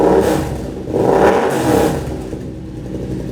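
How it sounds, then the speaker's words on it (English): A 2022 Yamaha R7 motorcycle with an SC Project titanium exhaust, not yet flashed, revs loudly up close in two rising swells, the deep resonant exhaust note fading back toward a rumbling idle. "Now that little kind of resonance that you hear is the fact that the exhaust"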